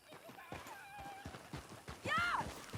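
A horse in Red Dead Redemption 2 gallops through a canyon, its hooves beating a steady clip-clop before a loud, close whinny rises and falls near the end.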